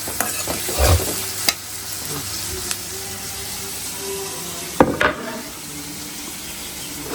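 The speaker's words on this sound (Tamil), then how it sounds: "நல்லா வதக்கிக்கணும் எண்ணெயில." Ingredients being stirred and sautéed in oil for a mixed nine-grain curry, a continuous close sizzle broken by scraping and clanking spoon strokes against the pan.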